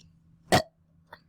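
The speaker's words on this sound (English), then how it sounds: "Sorry, I just had to burp." A single short, broadband burp from a person indoors, loud and abrupt, followed by a fainter brief throaty sound about half a second later.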